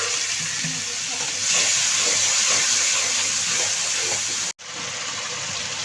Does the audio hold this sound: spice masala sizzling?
yes